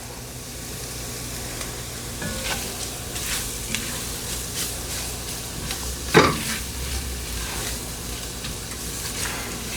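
Garlic sizzles in a pan for Manhattan clam chowder, a steady close frying hiss with soft stirring scrapes and one sharper clink midway.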